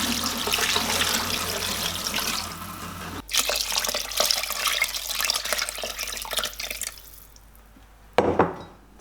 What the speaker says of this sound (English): we'll pop the water in and turn it on